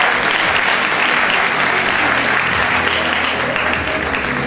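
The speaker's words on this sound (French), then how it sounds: "vous pouvez l'applaudir quand vous êtes numéro 9." Loud sustained applause fills the hall for contestant number 9 at the Miss Aisne 2018 pageant, dense clapping with a low murmur and faint background tones underneath.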